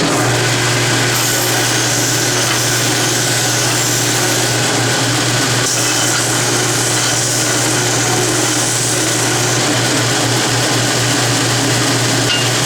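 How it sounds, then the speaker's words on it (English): A 6-inch belt sander runs with a continuous loud hum and abrasive hiss as it rounds the corners of a metal lathe compound-rest part. The grinding rasp is steady and close, with no speech. "I'm going to put a bit of a radius on these two corners, as such, on the 6-inch belt sander."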